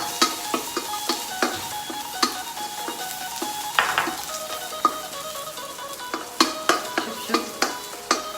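Garlic fries in a pan for a glass-noodle stir-fry, giving a close, steady sizzle broken by frequent sharp taps and scrapes of a spatula against the pan, with no one talking.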